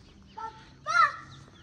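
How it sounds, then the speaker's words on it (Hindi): Birds call outside a hotel room on a road trip, two short harsh cries, the second louder and longer, over a quiet room background. "और चिड़ियाओं की जो आवाज़ें आ रही है ना"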